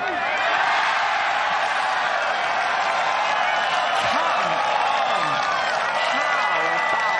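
At an LPGA tournament in Thailand, a golf crowd cheers and applauds in a steady, dense wash, with a commentator talking over the noise.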